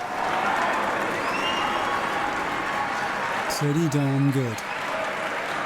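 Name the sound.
crowd cheering and applauding in video game Cyberpunk 2077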